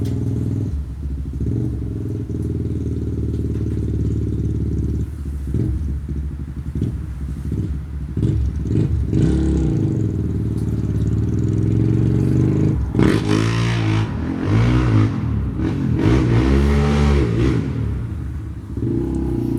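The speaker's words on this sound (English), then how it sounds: "That's my brother riding around on his 400EX like a moron when I'm trying to make a video" A Honda 400EX ATV rides around nearby, its engine revving up and down with a buzzing, clattery note that swells and fades as it passes, steady and fairly loud throughout.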